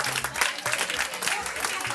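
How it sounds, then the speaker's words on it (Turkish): A quiz-night audience claps for the winner, brisk scattered applause from a small crowd, with voices mixed in over the clapping. "Alkışlıyoruz Batçık'ı."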